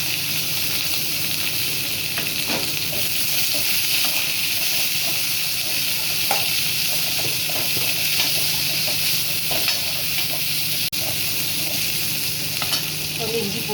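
Green chillies, curry leaves and onion crackle and sizzle steadily in hot oil in a pan, after mustard seeds and cumin have gone in, with a continuous close hiss and occasional spits and stirring for a tomato kurma.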